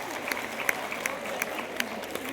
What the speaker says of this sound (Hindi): वाह, एक जोरदार तालियां इनके लिए करें।